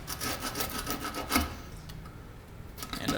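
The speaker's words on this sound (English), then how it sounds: "I've used the Allen wrench to grind the edges away" An Allen wrench rasps along grip tape edges on a scooter deck, a series of quick rhythmic scraping strokes close up, then a pause and a couple more scrapes.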